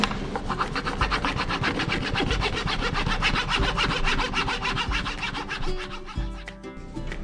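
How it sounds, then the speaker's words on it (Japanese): A leveler scraping hard wax flat over a scratch on a non-wax wooden floor, a fast steady back-and-forth rasping that is close and continuous, slowing briefly near the end. "レベラーで平らにしていきます"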